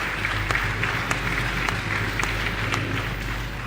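A crowd at a presidential town hall in Makeni claps steadily, a dense continuous patter of many hands with occasional sharper claps standing out.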